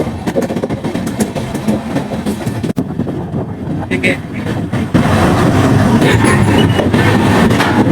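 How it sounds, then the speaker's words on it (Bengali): A train passing close by, with a loud, continuous rumble and rattling of wheels on the track that grows heavier in the second half, while a person talks over it. "আমি একটা ট্রেন এখন ক্রস করছি।"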